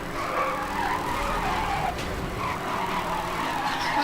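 In the video game Need for Speed Hot Pursuit, a car drifts and skids through corners, its engine droning steadily under a continuous tire scrub and squeal, with no one speaking.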